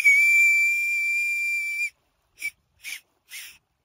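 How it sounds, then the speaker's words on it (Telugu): A whistle blown through a conch shell holds one loud, piercing, steady tone for about two seconds, then breaks into three short, sharp blasts with silence between them. "ఈ శంఖాలతోని విజిల్ అయితే మస్తు కొట్టవచ్చు."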